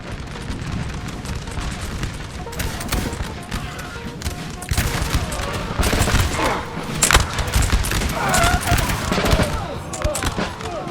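Musket volleys roar across a Napoleonic battlefield in Napoleon: Total War, recreating the 1812 Battle of Mesoten between Prussian and Russian lines. The crackling fire is dense, loud and nearly continuous, with rolling bursts swelling and overlapping throughout.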